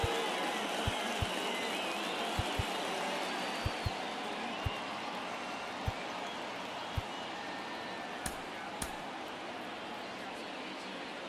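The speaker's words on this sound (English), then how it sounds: "These fans, they are ready to cheer about something." A baseball stadium crowd in MLB The Show 23 during a Guardians vs Braves game makes a steady, dense murmur of fans, with scattered sharp clicks and taps over the constant roar.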